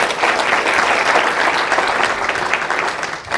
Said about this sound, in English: let's clap for all those stakeholders in the city for making it happen